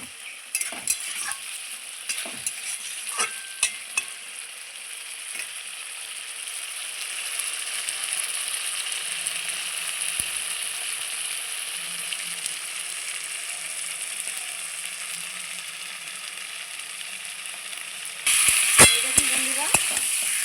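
Potatoes and squash fry in a pan for a Bengali dalna, a steady soft sizzle with scattered stirring clicks and scrapes that gets louder and brighter near the end.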